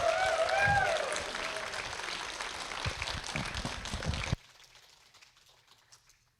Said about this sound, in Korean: 첫 번째로 큰 박수로 환영해 주시고